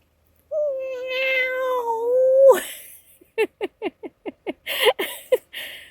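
A cat meows in a long drawn-out wail, then gives a quick series of short, sharp mews, close and loud.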